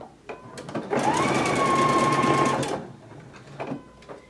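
A Husqvarna Viking Epic 980Q sewing machine stitches a buttonhole, its motor whirring steadily for about two seconds at close range, with soft clicks and handling noises before and after.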